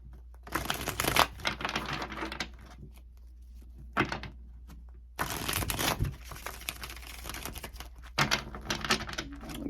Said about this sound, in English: Okay, I'll get the cards out first